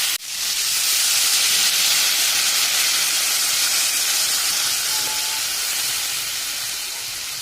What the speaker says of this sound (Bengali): এবার আমি দিয়ে দেবো এর মধ্যে জল।